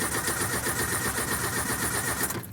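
A cold Toyota car engine cranks and struggles to start with its mass airflow sensor disconnected, a steady mechanical churning drone running continuously before cutting off near the end.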